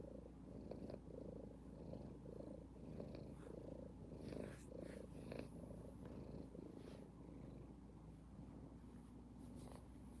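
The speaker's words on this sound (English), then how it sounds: "Fiona is quite a little purr box" A cat purrs steadily and close up, a continuous low rumbling with soft rhythmic pulses running through the whole stretch, with a few faint rustles on top.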